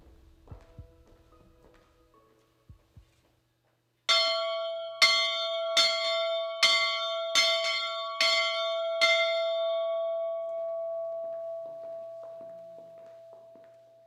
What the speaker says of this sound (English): Tonight, seniors, the answer is clear. It tolls for thee.